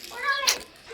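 A pet cat meows once, close and fairly loud, with a rising then falling cry followed by a brief sharp accent and a quieter second sound at the end.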